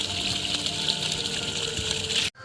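Serviced BLDC water pump motor pumping water: a dense, steady gushing rush of water with a faint motor hum, loud and close, cutting off abruptly near the end before resuming briefly.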